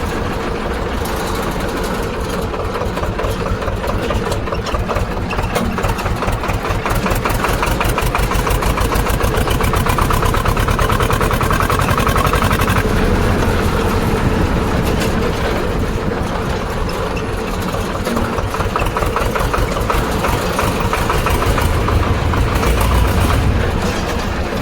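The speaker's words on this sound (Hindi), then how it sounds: "अब घर की तरफ मोड़ लेते हैं ट्रैक्टर को," A Swaraj 724 tractor engine runs with a dense, loud, continuous diesel chugging that holds steady with slight swells as the tractor turns toward home, no one speaking over it.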